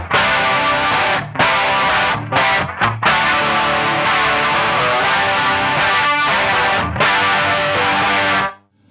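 Distorted electric guitar on an amp's crunch channel runs through a chorus pedal, giving loud, thick, shimmering strummed chords in several bursts with brief gaps before ringing out and stopping.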